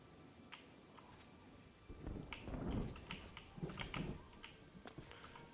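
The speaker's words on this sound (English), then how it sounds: "See if we can get out of this thunderstorm." Thunderstorm in the video game Oblivion with steady rain patter and low rumbling thunder swelling twice mid-clip, scattered crackles over a constant wash of rain.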